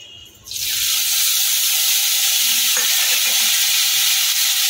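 Ginger, tomato and turmeric powder hit tempered oil with a sudden loud sizzle that swells and holds steady, the frying hiss staying strong and close with faint stirring underneath.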